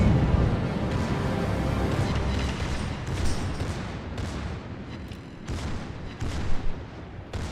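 Heavy naval gunfire rumbles through a warship battle game, the Tirpitz trading salvos with the Yoshino amid torpedo alarms, a dense continuous roar of booms with a few sharper blasts near the end.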